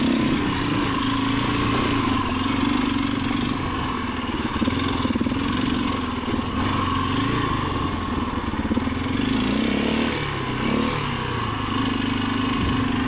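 A motorcycle engine putting along slowly on a ride, a steady mid-pitched drone with mild throttle wobble, close and loud throughout with no talking.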